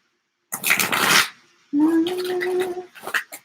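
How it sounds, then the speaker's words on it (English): A deck of cards being shuffled by hand, two papery riffling bursts separated by a short pause, close and fairly loud. "Let me just shuffle one more time"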